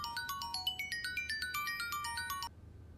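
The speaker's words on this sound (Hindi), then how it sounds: "फोन।" A melodic electronic ringtone plays a quick pattern of bright, repeating tones for a couple of seconds, then cuts off, leaving a faint background hum.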